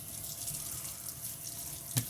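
Cold water pours from a bathroom tap for rinsing the face, a steady close splashing stream with a brief louder splash near the end.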